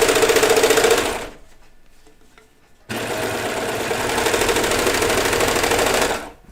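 A sewing machine stitches the side seams of overalls in two loud, fast runs close up, a rapid even clatter that stops briefly in the middle and then resumes.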